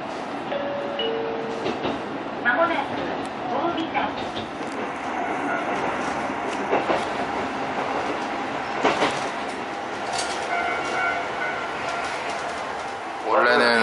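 Local train near Shimabara running on rails, a steady rumbling clatter with occasional squeals and knocks throughout, while people talk over it.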